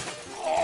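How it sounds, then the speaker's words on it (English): Glass pane shattering as a character crashes into it in the NES Back to the Future game, a single short crash of bright, noisy synthesized chip sound with a sustained tone at the end, heard alone. "carrying a plate of glass, which seems to be invisible to the naked eye until you crash into it"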